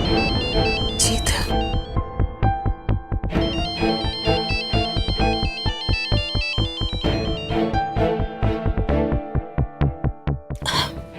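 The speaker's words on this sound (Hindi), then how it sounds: "मैं ये फोन ले लूं प्लीज?" A mobile phone ringtone plays a loud, repeating electronic melody in pulsing bursts, close by inside a home, with no voices over it.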